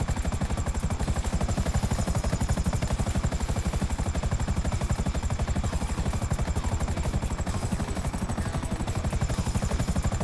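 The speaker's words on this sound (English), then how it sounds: "because that's my helicopter" Helicopter in the GTA V video game, its rotor chopping in a steady, loud, continuous rhythm that fills the whole stretch with no voices.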